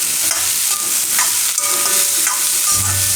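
Broccoli frying in a pan for cheese broccoli fried rice, a loud continuous sizzle close by, with a spoon scraping and stirring through it in repeated strokes.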